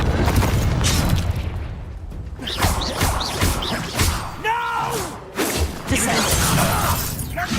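Confringo fire spell blasts in Hogwarts Legacy combat, a series of booms, crashes and whooshes layered with shattering impacts and brief character voices.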